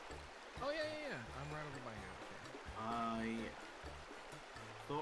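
Water pours from a massive log into a river in Ark Survival Evolved, a steady close trickle and splash running beneath continuous talking.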